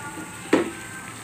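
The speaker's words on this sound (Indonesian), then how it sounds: "setelah mendidih seperti ini airnya, kita masukkan bahannya ke dalam" Herbal ingredients for a homemade cough remedy drop into a pot of boiling water with one brief splash, set against a steady bubbling hiss from the boil.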